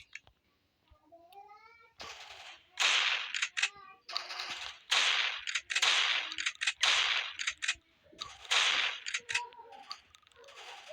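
Video game gunfire during a headshot: sharp, crackling bursts of shots come in irregular clusters, loud and close, with a person speaking briefly at the start.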